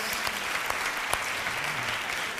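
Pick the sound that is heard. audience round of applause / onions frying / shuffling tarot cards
audience round of applause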